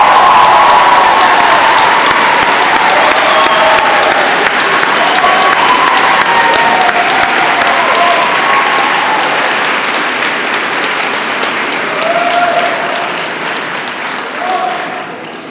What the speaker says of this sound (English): With a round of applause, I'd like to recognize Muhammad Faraz Sadiq.